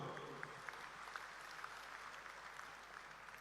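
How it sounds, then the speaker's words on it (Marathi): An audience in a hall at a political party convention claps loudly to welcome Amit Shah, a dense, sustained wash of many hands applauding from a distance that holds steady for a few seconds. "एकदा जोरात टाळ्या वाजून आपण त्यांचं स्वागत करू"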